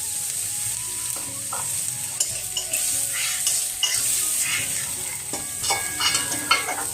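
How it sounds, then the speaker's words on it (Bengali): Ash gourd greens with garlic and salt sizzle steadily in hot oil, with repeated scraping stirs of a spatula against the pan and occasional light clinks, close up and continuous with no talking. "শাকটা ভাজা হয়ে গেছে"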